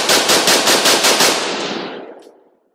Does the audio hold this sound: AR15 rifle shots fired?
yes